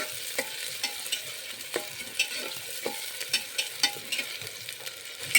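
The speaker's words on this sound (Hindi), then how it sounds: "सारे प्याज को हल्का सा हमें गोल्डन फ्राई कर लेना है।" Onions frying to golden in a pan for a Kerala-style khara masala stew, a low sizzle broken by repeated spatula taps and stirring scrapes at an uneven rhythm, close and with no talking.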